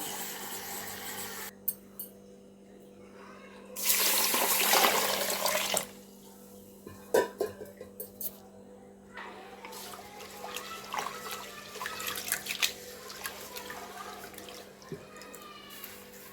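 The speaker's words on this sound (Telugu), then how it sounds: "ఇంకా బియ్యం అయితే కడుగుతున్నా ఫ్రెండ్స్." Rice being washed in water at home, with splashing and sloshing bursts, a longer gushing pour near the start, then scattered smaller swishes and drips in a quiet room.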